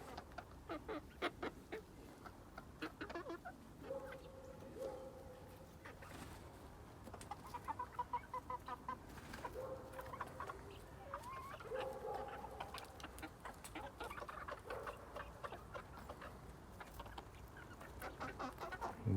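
Chickens clucking and murmuring softly in the background, a low steady flock chatter with occasional louder calls, fairly distant and quiet.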